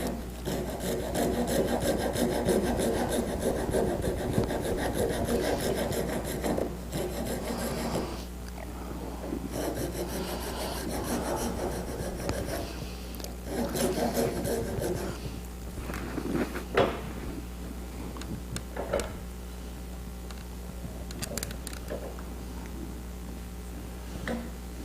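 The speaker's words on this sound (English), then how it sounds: "Take a good rasp," A rasp files a piece of wood with repeated close scraping strokes, dense at first and then in shorter bursts with pauses, over a low steady hum.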